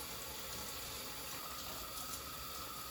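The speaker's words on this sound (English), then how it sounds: "Don't forget to wash your veggies." Vegetables are rinsed under a running kitchen tap: a steady, even rush of water that stays constant for the whole stretch, fairly close, with no one talking.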